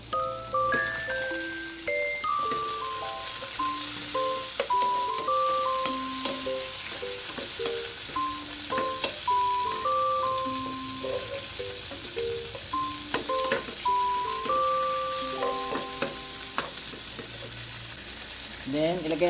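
Tomatoes sizzle and fry in a pan while milkfish belly adobo is being cooked. A steady crackle continues throughout, partly masked by melodic background music.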